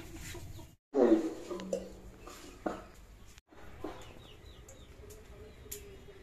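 Chickens with young chicks cluck and call in short bursts close by, the loudest near the start, then quieter scattered clucks in a rural yard.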